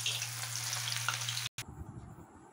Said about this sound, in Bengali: তেলে আমি শুকনো লঙ্কা আর হচ্ছে কি জিরে ফোড়ন দিয়ে দিয়েছি। আর এখন পেঁয়াজগুলো দিয়ে দেবো